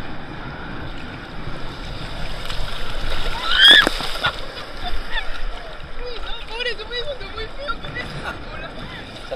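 Ocean waves splash and wash along the beach at Cartagena, Colombia, a steady loud surf with a stronger burst midway and voices talking over it.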